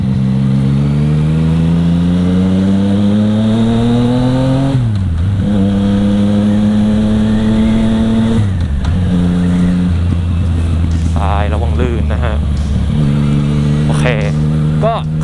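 A Yamaha MT-09 with a three-cylinder crossplane 900-class engine being ridden: loud, close engine note rising through the revs in repeated pulls, with gear shifts between them, and someone talking briefly over it.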